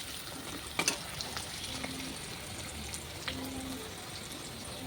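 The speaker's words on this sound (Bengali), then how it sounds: "মাছের মাথা মরিচ পেঁয়াজ রসুন ভাজা হয়ে গেছে" Hilsa fish head frying with chilli, onion and garlic in a pan: a steady close sizzle with a few sharp pops and crackles near the start, no talking.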